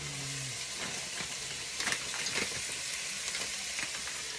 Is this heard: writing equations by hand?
no